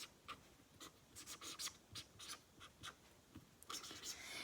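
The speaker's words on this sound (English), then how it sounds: "Now, I'll write it underneath here." Pen or pencil strokes scratch faintly across a page while algebra working is written out by hand, in short bursts of quiet, close scratching with soft breathing and low murmured speech.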